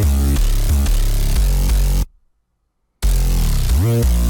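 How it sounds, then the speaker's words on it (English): A Closure 808 bass by CM Spark plays on its own in a hyperpop beat pattern. Deep booming notes with pitch slides hit in a rhythmic run, break for a second of silence, then return. "This 808 is the Closure 808 by CM Spark."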